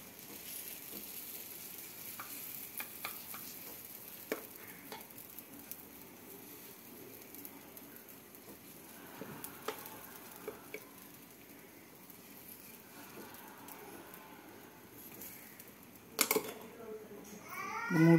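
Homemade pancake batter cooks in a pan with a quiet, continuous sizzle and occasional clicks and taps of utensils, while a person talks softly over it.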